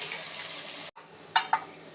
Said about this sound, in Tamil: வெங்காயம் நல்லா பொன்னிறமாக வதங்கிருச்சு